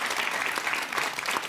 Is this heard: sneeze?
no